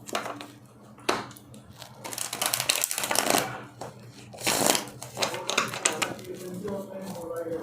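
Tarot cards being shuffled by hand: bursts of papery riffling and rustling rise and fall over several seconds, close to the listener, with brief pauses between handfuls.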